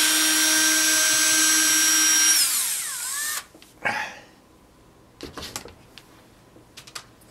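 A power drill unscrews a clay bust from its stand with a loud, steady high-pitched whine for about two seconds. The whine winds down, then a few faint clicks and handling knocks follow.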